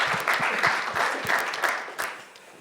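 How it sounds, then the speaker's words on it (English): Audience at an innovation fellowship pitch event in Thailand claps steadily for about two and a half seconds, a dense, moderately loud round of applause with a few sharper individual claps, tapering slightly at the end. "Please give her Kun a round of applause."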